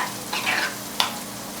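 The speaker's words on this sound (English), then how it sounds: "So I'm going to mix this up." A cream cheese mixture being stirred by hand, heard as two short, soft scraping strokes separated by a pause, close and fairly quiet, with no voices.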